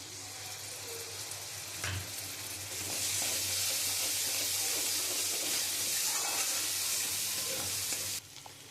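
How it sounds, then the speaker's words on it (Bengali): Spiced masala sautéing in oil with curd gives a hissing sizzle that grows louder and fuller partway through, then drops off sharply near the end. A few stirring scrapes come through and no one speaks. "দিয়ে আমি খুব ভালো করে কষাবো। আমি তো মশলা দিয়ে কিছুক্ষণ কষিয়ে নিয়েছি। আমি এবারে দইটা দিয়ে দেবো।"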